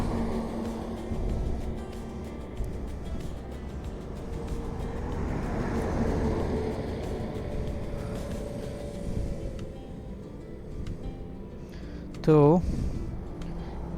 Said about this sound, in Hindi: हाईवे पे है, थोड़ा गाड़ियों का आवाज़ आपको सुनाई देगा।